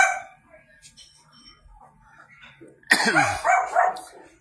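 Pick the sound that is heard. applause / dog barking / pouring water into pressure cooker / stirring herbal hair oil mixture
dog barking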